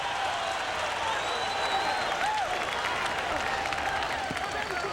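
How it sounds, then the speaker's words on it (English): Boxing arena crowd at the Forum rising to its feet after the fourth round, a steady wash of applause and cheering heard from a distance, with no single clap or voice standing out. "Forum crowd rises to its feet after a brilliant fourth round."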